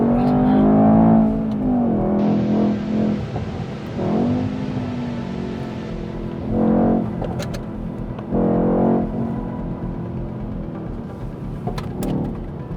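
A 2018 Mercedes-Benz E63 AMG accelerating hard on a track, its engine roaring loudly as it revs through several rising pulls with brief shift breaks, heard from inside the car with no talk.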